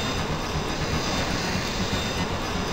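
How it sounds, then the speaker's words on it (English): Racing craft engine screaming in the DOS game Slipstream 5000, a loud, dense and unbroken jet-like roar that holds steady for the whole stretch, heard alone with no voices. "Engine screaming as we approach Hoover Bank."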